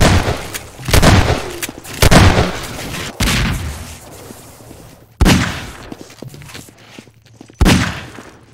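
Rocket launcher blasts and gunfire in a Half-Life 2 Deathmatch match, heard as several loud, sharp bursts spaced a second or two apart, each decaying into rumbling echo, with quieter shots in between.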